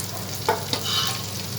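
Butter melts in a hot frying pan with a soft, steady sizzle and a couple of brief stirring scrapes. There is no talking.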